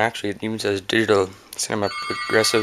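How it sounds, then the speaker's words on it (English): A telephone rings briefly near the end while an LCD monitor is being tested, its tone sitting under steady conversational talk. "and that's a phone."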